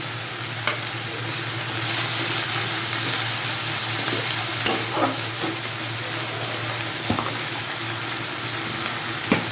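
Chilli paste sizzles and fries steadily in a pan, with occasional scraping stirs and clicks from a spatula, close and continuous with no talking.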